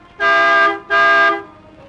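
A car horn gives two loud, close honks in quick succession, each a short, even tone, followed by quiet with no talking.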